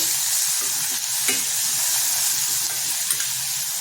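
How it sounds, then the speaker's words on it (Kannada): Tomatoes with pav bhaji masala sizzle steadily in a pan for paneer curry, a continuous loud frying hiss broken by a few soft scrapes and knocks of the stirring spoon. "ಇದನ್ನು ಹಾಕ್ತಾಯಿದ್ದೀನಿ ಒಂದು ಸುತ್ತು ಚೆನ್ನಾಗಿ ಟೊಮೆಟೊ ಸ್ವಲ್ಪ ಮೆತ್ತಗಾಗಲಿ"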